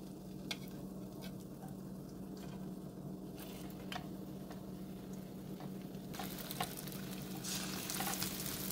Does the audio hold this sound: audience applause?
no